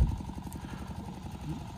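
A small power tiller, a compact garden rotavator, runs fast with a rapid, throbbing engine chatter that stays steady and close for the whole stretch, a brief thump at the start.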